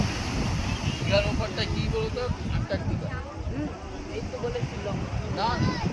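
Heavy wind buffets the microphone with low rumbling gusts at Digha beach, over a wash of sea and surf, while people talk underneath.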